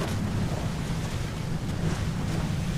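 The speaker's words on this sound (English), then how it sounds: "We got a water spout" Waterspout at sea in Assassin's Creed 4 Black Flag, a steady, loud rushing roar of wind and churning water with surf-like wash, continuous and without voices.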